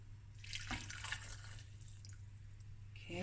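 Boiling water pours into a bowl of chopped pitted dates, a soft, quiet close trickle and splash over a low steady hum, ending with a brief clink.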